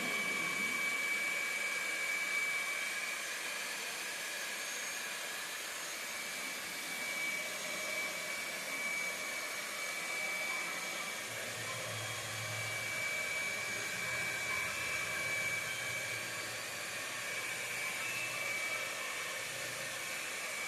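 A terahertz frequency therapy machine runs with a continuous airy whir and a faint steady high tone. The hum stays even throughout, and a low rumble joins partway through.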